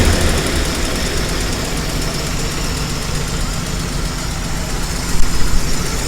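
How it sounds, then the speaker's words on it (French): A 1951 Pontiac engine with its original 6-volt system settles back to a steady idle up close, a continuous low rumble with faint knocking, a brief louder surge near the end. "Le moteur tout doucement retourne au ralenti."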